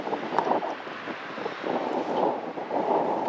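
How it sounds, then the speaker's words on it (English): Steady gusty wind on the Southsea seafront roars and buffets the microphone, a broad continuous rush with swells in strength, no voices. "Seafronts are often a bit windy, but Alan was hoping to get the drone up."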